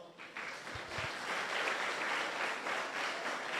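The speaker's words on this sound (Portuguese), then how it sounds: "Você pode aplaudir o Senhor?" A church congregation breaks into applause after a short lull, the crowd's clapping swelling into a full, continuous roar that stays loud and even to the end, with no one speaking.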